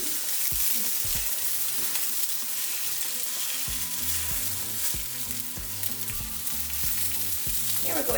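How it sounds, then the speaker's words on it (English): Tomatillos, onion, garlic and chiles fry in a pan with a loud, constant sizzle and crackle, while scraping stirring noises and low clunks come in partway through. "now we're just going to be frying for about 3 minutes"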